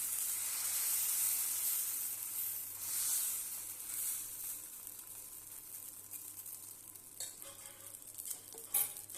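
Rice and moong dal chilla batter cooks on a hot pan, giving a steady close sizzle and hiss that eases slightly over time, with a few soft scrapes and clinks near the end.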